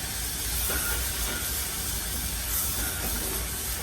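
Hot stock ladled into a pan of quinoa risotto hisses and steams loudly and continuously, a dense broadband sizzle that stays steady for the whole stretch with faint stirring underneath.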